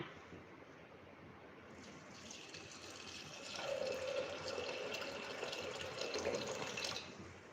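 Water splashes steadily into a metal cooking pot of dal, the pouring growing louder and fuller midway before stopping, close by with no talking.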